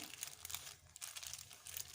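Thin plastic film, a reused bag, crinkles and rustles as a violet leaf is wrapped in it, a soft continuous crackling that comes in bursts over two seconds with no talk.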